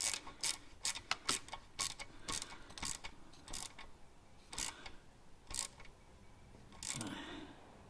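A socket ratchet tightens the oil line clamp on a Harley, giving a dozen or so sharp, close clicking bursts in an uneven rhythm with short pauses between strokes, and no talk over it.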